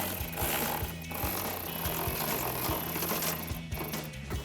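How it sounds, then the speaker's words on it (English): Ratcheting a 10mm swivel socket to tighten headlight bolts on a 2015-2023 Dodge Charger, rapid rhythmic clicking bursts, close and fairly steady with brief pauses, no talk. "I'm gonna grab a 10mm swivel socket to get up in there and tighten these down"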